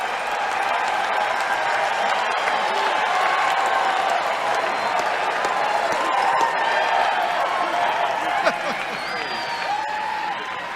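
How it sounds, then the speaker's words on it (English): A large crowd at the 1992 Republican National Convention applauds and cheers, a sustained, loud roar of clapping and whoops that carries on evenly and eases slightly toward the end, with scattered shouts within. "What a terrific crowd this is."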